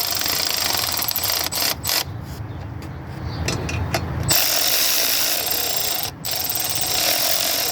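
Bolts being snugged up on a 2004 Silverado 4x4 plow truck: a loud, close, continuous rapid clicking of a ratchet or power tool runs throughout, briefly interrupted once or twice, with no talking.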